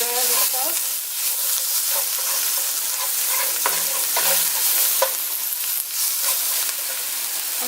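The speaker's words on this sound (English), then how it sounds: "And I'm going to stir this up." Food for cauliflower fried rice sizzles loudly in a pan while a utensil stirs it, producing repeated scraping and clattering over the steady frying hiss.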